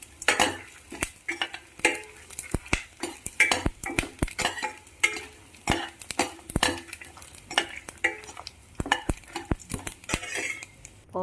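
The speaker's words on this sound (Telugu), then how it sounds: "కొంచెంసేపు అయిన తర్వాత ముందుగా తయారు చేసుకున్న పోపులన్నీ రెడీ చేసి ప్యాన్లో వేసుకోవాలి" Tempering spices sizzle in hot oil in a pan while making a curry leaf powder, with steady frying hiss under frequent sharp metallic clinks of a spoon stirring against the pan; no voices.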